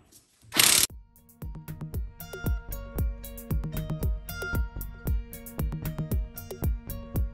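Ratchet wrench loosening the lug nuts on the rear wheel of a C7 Corvette with magnetic ride, with a sharp burst of noise first, then a steady run of crisp, close clicks repeating over several seconds.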